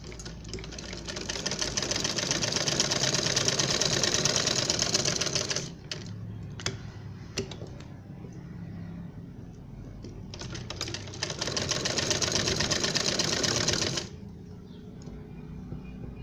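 A sewing machine stitches a ruffled baby frock in two long steady runs of rapid mechanical whirring, up close, separated by a pause filled with clicks and fabric handling.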